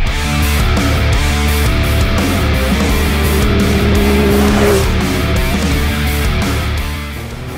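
A Can-Am X3 prerunner buggy drives off-road in Baja, its engine roaring steadily and loudly close by, with a droning, buzzing tone throughout that eases off slightly at the end.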